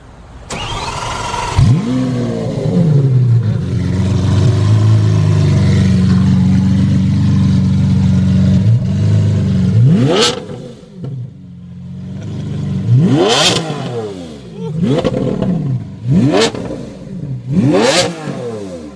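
A Lamborghini Aventador SV roadster fires up from cold with a loud starter whir and roaring catch, settles into a heavy droning idle, then barks out several sharp, rising revs in quick succession, close and alone.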